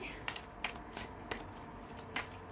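A deck of tarot cards is cut and handled, a few quick, crisp card flicks and slaps close by over faint background murmur.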